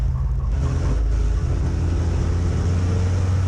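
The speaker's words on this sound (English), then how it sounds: "Something wrong on the 13. You can hear that car missing." Race car engine at a Hattiesburg Speedway stock car race runs loud and close with a strong low drone and uneven, stuttering misfire in its tone, steady throughout.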